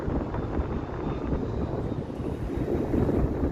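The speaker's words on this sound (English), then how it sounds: "The wind tunnel is in full effect here." Strong wind rushing through the Bay Street condo canyon in downtown Toronto, a loud, steady roaring buffet against the microphone with no break.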